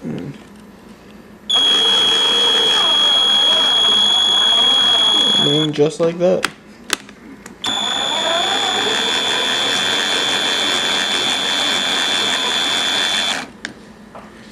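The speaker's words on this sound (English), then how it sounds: "And then I'll put the drill bit on it." A power drill drilling out a broken screw whines loudly at a steady pitch for several seconds, stops briefly amid clicks and a short spoken phrase, then runs again steadily.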